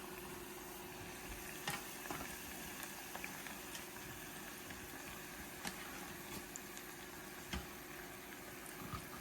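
Chopped hard vegetables fry in oil in a pan for gambas al ajillo, a soft, steady sizzle and bubbling with a few faint clicks, quiet and continuous with no talking.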